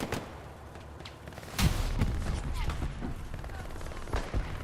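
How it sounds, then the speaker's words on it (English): Incoming rockets and gunfire in a console military shooter match, with a heavy thud about midway followed by scattered shots and booms at moderate distance over a rumbling battlefield. "Rockets come in."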